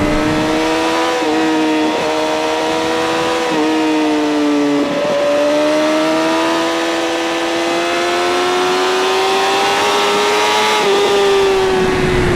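A 2012 BMW S1000RR motorcycle screams close by as it accelerates hard. The engine note climbs steadily and drops briefly at each gear change before climbing again, with no one speaking.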